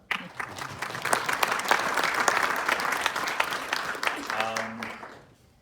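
Audience applause fills the room for a guest film accompanist at a Chaplin shorts screening, a steady dense patter of many hands that tapers off at the end, with a voice speaking briefly near the close.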